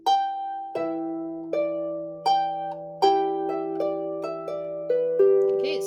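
Harp plucks an E octave, then moves up to an E third, several clear, ringing notes in an Irish barndance tune, each attack decaying under a sustained low bass note, close and alone.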